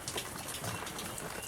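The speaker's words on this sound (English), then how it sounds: "we have got rain, lots and lots of rain" Heavy rain falls outdoors on a homestead in Arizona, a steady broadband hiss of drops striking surfaces, continuous and fairly close with no talking.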